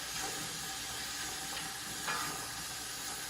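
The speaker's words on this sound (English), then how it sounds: "Stir these in nice and good. And we'll let them cook for a few minutes." Hard soup vegetables sautéed in a pot, a soft steady sizzle and hiss with a faint scrape of stirring, close and continuous without talking.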